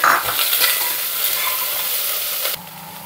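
Green peas, cashews and curry leaves sizzle steadily in a pan for a matar pulao while a utensil scrapes and stirs, loud and close, then the frying drops suddenly quieter near the end.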